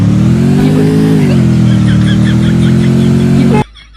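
A monster truck engine in the Free Fire video game revs steadily and loudly, a deep droning roar with a slight pitch rise near the start, then cuts off abruptly just before the end.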